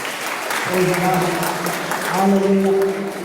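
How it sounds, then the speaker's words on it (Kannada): A church congregation claps in praise during a Kannada worship service, a broad spread of applause running beneath voices that carry tonal, sung or chanted lines. "ದೇವರಿಗೆ ಚಪ್ಪಾಳೆ ಹೊಡೆಯಿರಿ"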